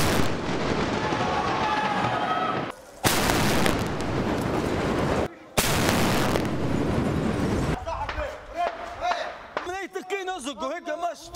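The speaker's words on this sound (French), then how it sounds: "C'est au canon qu'ils les débusquent un par un." Tank cannon fire against sniper-held buildings during the last fighting in Tripoli, Libya: loud, sustained roaring blasts broken by brief gaps, then a voice speaking over quieter rumbling.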